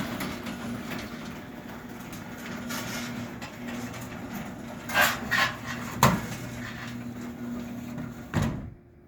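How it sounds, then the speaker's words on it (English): A door rattles and bangs shut several times as heater airflow pushes it around, a few sharp knocks standing out over a steady fan drone, with a final thud near the end. "it kind of slams the door all over the place, but it does work."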